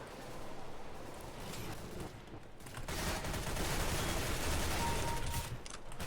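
MP7 submachine gun fire in the video game CS:GO, a sustained rattling burst of rapid shots, moderately loud and continuous, swelling in the second half.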